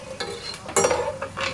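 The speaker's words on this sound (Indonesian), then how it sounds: "Kita goreng dulu kacang mete." Cashew nuts frying in hot oil in a home kitchen give a steady sizzle, broken by brief clinks and scrapes of a utensil stirring against the pan, up close with no talking.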